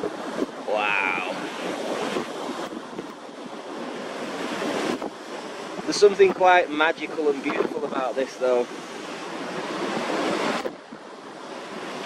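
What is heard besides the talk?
ocean waves crashing, 3-5ft swell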